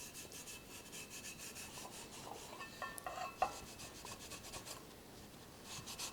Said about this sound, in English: So I'm just taking a gray pad and just lightly going over it.